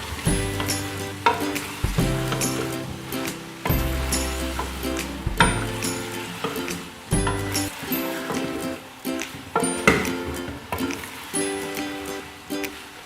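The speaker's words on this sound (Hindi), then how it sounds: "इस टाइम पे मैं इसमें डालूंगी शलजम। इनको अच्छे से मसाले में भून लेंगे।" Turnips fry in a spice masala with a continuous sizzle, and a spoon repeatedly scrapes and knocks against the cooking pot in uneven strokes, close and clear.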